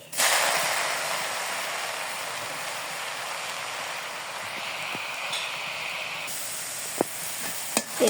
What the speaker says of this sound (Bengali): এখন আমি শাক রান্না করবো, কড়াইতে দিয়ে দিই।